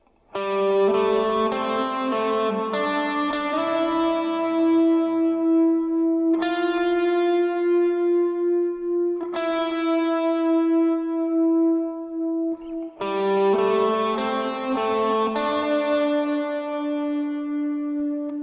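Lead electric guitar riff from the second chorus of a worship song, played with effects: a quick run of picked notes, then long sustained notes ringing with reverb and echo, then another flurry of notes, with no talking.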